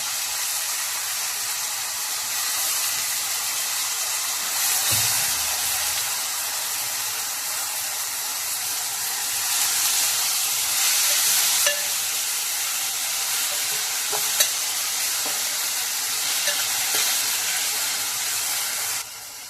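Mutton with tamarind leaves sizzles and steams steadily in a hot pan on a stove, a constant loud frying hiss with occasional scrapes and clinks of stirring, no voices.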